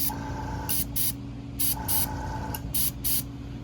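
An airbrush spray gun sprays paint with the air cap being adjusted, producing short bursts of close hissing spray, about seven in quick succession, over a faint steady compressor hum.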